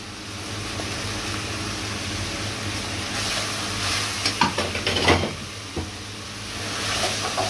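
Cardamom fries in hot oil with a steady close sizzle, broken midway by a cluster of clattering knocks and stirring sounds before the hiss continues alone.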